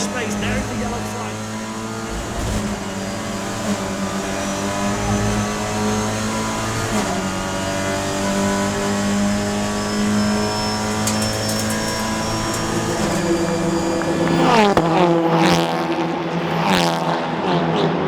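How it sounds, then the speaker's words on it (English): Race cars racing at Mugello circuit, engines droning and revving in layered whining tones, with gear changes and a car surging past near the end, loud, under a commentator's voice. "Max tries to get the car alongside Corvini, not willing to give away the space"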